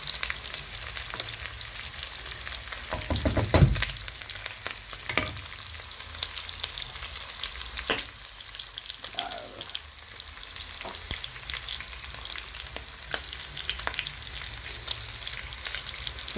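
Pork and ginger fry in a hot pan with a steady, dense sizzle, broken by occasional scraping knocks as the meat is stirred and turned, close and continuous with no talk.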